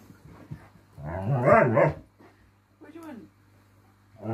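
A single drawn-out bark or woof rings out up close, followed by a shorter yelp-like vocalization, with a low steady hum underneath.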